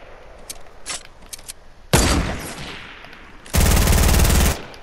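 Gunfire in the video game Fortnite, with a few faint shots first, then a loud burst of fire, and later a sustained rapid automatic volley that stops abruptly.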